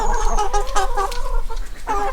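Several hens cluck and chatter nearby in short, overlapping bursts, with a steady low hum underneath.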